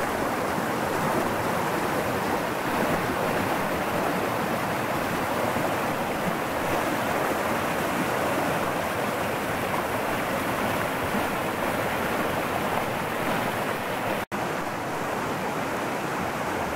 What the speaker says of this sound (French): il y a un petit ruisseau qui descend de la montagne et qui vient rejoindre le gros ruisseau que j'ai suivi en parallèle